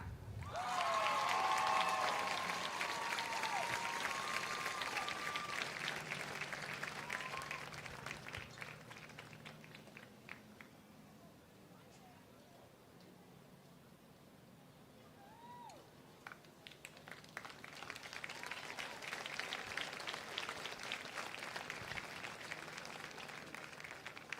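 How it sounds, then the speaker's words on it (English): Crowd applause at a high school football homecoming crowning swells loudly at first, fades to a lighter patter in the middle, then builds again toward the end, with a few cheers mixed in. "Let's give a big round of applause to our football homecoming royalty."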